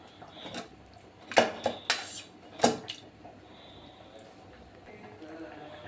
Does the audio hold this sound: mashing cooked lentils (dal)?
yes